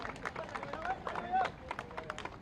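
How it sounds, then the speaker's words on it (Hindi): A rally crowd in East Delhi claps to welcome a chief minister, quiet and somewhat distant rhythmic clapping mixed with crowd murmur and a loudspeaker voice. "जोरदार तालियों से स्वागत करिए मुख्यमंत्री जी का"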